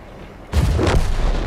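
A heavy tank's cannon fires in the World of Tanks video game, the British FV225 heavy tank with a twin gun, one sudden loud boom followed by a rumbling decay.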